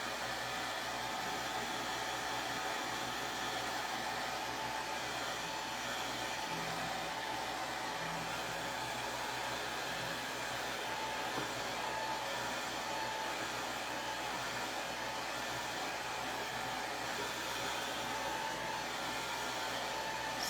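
A hair dryer runs to dry paint on a handmade DIY sign, giving a loud, continuous airy whoosh with a steady motor whine that stays unchanged for the full stretch, with no voices.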